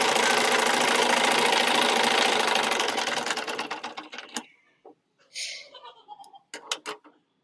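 A sewing machine stitches two sides of a newborn baby's cloth garment with a dense, fast whirring hum that runs loud and close for several seconds, then stops, leaving scattered handling clicks and rustles.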